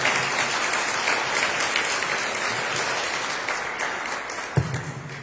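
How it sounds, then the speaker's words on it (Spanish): A church audience applauds to encourage a speaker before a Holy Week meditation, steady dense clapping that carries evenly throughout at moderate loudness. "vamos a dar un aplauso para que se anime"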